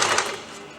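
Short burst of a sewing machine stitching a bias strip onto a fabric sleeve, a quick rattling run of needle strokes that fades out within a second.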